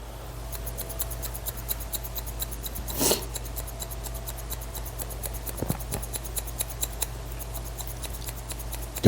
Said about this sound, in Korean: 아까 배웠던 변형가위질 엽싱글링 이용해서 미세하게 튀어나오는 요철 제거까지 해서 한쪽 마무리 해보겠습니다